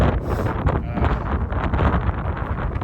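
Strong wind buffets the microphone at an open-air campsite on the Pacific Crest Trail, with a constant low roar and rumbling gusts, no voices present.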